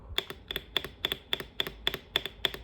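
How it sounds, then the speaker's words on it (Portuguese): Typing on an Akko 5075B Plus V2 mechanical keyboard, a steady close-up run of crisp, bright keystrokes arriving in quick pairs, with no one speaking. "vamos ouvir o barulho do teclado da Aqua"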